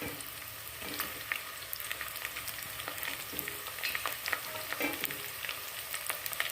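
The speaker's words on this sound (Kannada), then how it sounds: "ಹಾಗಲಕಾಯಿ ಚೆನ್ನಾಗಿ ಫ್ರೈ ಆಗಬೇಕು" Bitter gourd pieces fry in hot oil in a pan with turmeric, giving a steady crackling sizzle with occasional sharper pops and stirring clinks throughout, with no voices.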